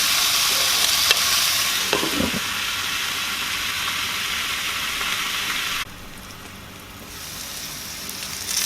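Potatoes for a tuna bake cook under a lid in a pan with all-purpose seasoning, giving a steady, fairly loud sizzle and crackle. A brief clink sounds near two seconds, and the sizzle turns muffled and quieter for the last few seconds.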